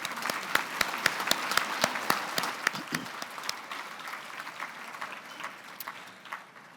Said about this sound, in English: Can we please have a round of applause for our first group of nominees?